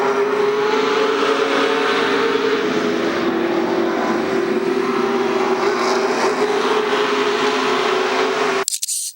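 Late model race cars roar around the Illiana oval on the final lap of the feature, a loud, steady, sustained engine drone that cuts off abruptly near the end.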